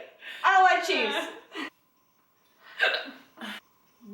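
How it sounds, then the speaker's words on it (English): A woman hiccups during a hiccup challenge, making a couple of short, voiced, jerky catches close to the mic, each followed by a quick clipped gasp, with silence in between. "Hiccup."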